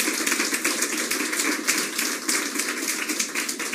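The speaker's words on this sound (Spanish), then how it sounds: "Denle un aplauso al Señor Jesús." A church congregation claps during a sermon, a dense, even patter of many hands sounding close and continuous throughout, with no talking over it.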